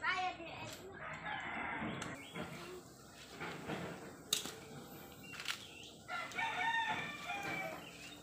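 Rooster crowing in a noisy outdoor setting with a crowd around, the calls broken up among chatter and background clatter, moderately loud and close.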